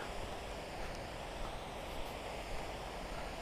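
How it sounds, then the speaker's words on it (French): A continuous, even rush of water flowing from a mill on a mostly dry river, steady and moderately distant, with no voices or other distinct sounds. "on entend juste un peu du moulin qui coule"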